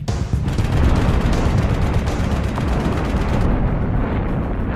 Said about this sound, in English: The Oerlikon 20mm is a 70 caliber air-cooled anti-aircraft machine gun.